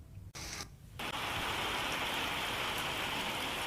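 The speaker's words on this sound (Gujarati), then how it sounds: "તો બનાસકાંઠાના ધાનેરાના ગ્રામ્ય વિસ્તારોમાં પણ આજે વરસાદ છે" Rain pours steadily over a rural village area in Dhanera, Banaskantha, a dense, continuous hiss of drops on surfaces that swells to full strength after a brief quieter opening, with no voices.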